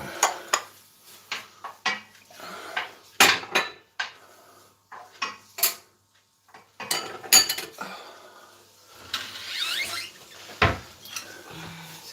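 Dishes and small Chinese soup spoons being put back into a kitchen cupboard, with a string of close, sharp clinks and clatters of crockery and cutlery, irregular and separated by brief pauses.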